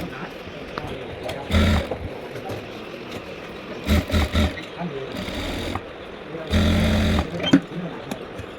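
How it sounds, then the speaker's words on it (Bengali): A sewing machine stitches a blouse's front neckline in several short, loud bursts of whirring, separated by quieter pauses, close up. "তারপর ব্লাউজের গলাটা সেলাই নিলাম।"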